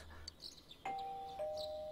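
A two-note ding-dong doorbell chime from the Persona 4 Golden video game rings out clearly, with the second, lower tone ringing on after the first over faint background sound.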